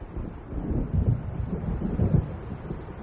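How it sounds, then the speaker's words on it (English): Low, steady rumble of thunder from an approaching storm over open water in Alan Wake Remastered, heavy and muffled, swelling slightly in the middle and heard alone without voices. "It seems there's a storm coming."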